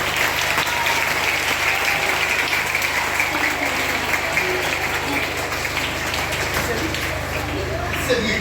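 A group claps in sustained, dense applause at a citizenship day event, loud and continuous throughout, with some voices mixed into the clapping.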